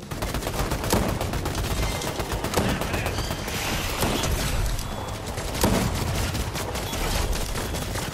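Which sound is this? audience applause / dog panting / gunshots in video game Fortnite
gunshots in video game Fortnite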